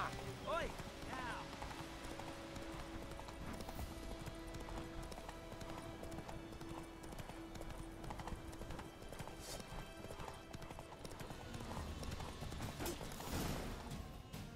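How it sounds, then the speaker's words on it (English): Horse hooves clip-clop steadily across the ground in a video game, a continuous rhythmic trot with an occasional whinny, heard under a voice talking. "Whoa there, Roach"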